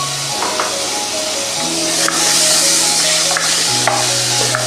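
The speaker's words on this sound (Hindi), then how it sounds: "हमने इसे हल्दी के ऑयल में फ्राई करना है, आलू भी और ये फली भी, गवार की फली।" Potatoes and guar (cluster bean) pods frying in hot turmeric oil in a pan, giving a steady, close sizzle with faint clinks of utensils throughout, no talking.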